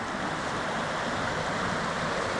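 Steady rushing water of the Thunderhead Prong stream, a continuous broadband wash like a small stream flowing nearby, with no other sounds standing out.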